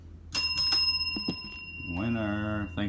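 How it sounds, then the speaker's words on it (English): A small bell struck, ringing out in three quick bright dings with a lingering tone, followed by a voice speaking. "Hit the bell, Pepe."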